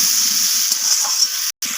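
Potatoes seasoned with salt and turmeric sizzle steadily in hot oil in a kadai, a close, continuous hiss with a brief drop to silence near the end.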